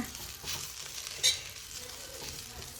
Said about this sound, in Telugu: అలా ఫ్రై అవ్వాలి ఆకంతా